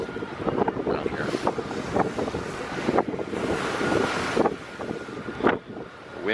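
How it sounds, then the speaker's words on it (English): Strong wind buffets and roars continuously, rushing in gusts over a rumble of water, loud and close throughout, on a rainy, gray day near Port Townsend, Washington. "Windy day too."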